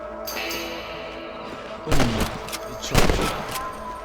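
Gunshots in the video game Red Dead Redemption aimed at rabbits, two loud booming shots about a second apart over a low ambient game bed, with no talk over them.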